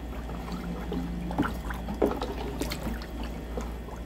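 Three tablespoons of baking soda are stirred into water in a container to dissolve before towels are soaked, giving soft swishing and sloshing with a few small splashes over a steady background hum.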